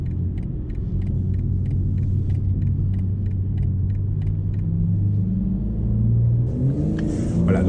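A BMW M4 G82 lapping the Nürburgring Nordschleife gives a loud, steady in-car engine drone and road rumble, with a regular ticking over it early on and the engine note rising near the end.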